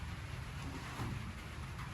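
Steady rain hisses softly in the background, a faint continuous wash of drops with no voices.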